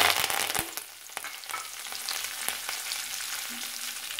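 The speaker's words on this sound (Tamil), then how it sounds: "உளுந்து கொஞ்சம் போட்டுக்கோங்க கருவேப்பிலை மல்லி" Urad dal, curry leaves and coriander fry in hot oil with cumin and fennel seeds, giving a steady crackling sizzle with a few sharper pops and stirring scrapes near the start, alone without speech.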